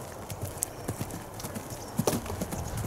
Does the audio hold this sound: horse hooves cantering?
yes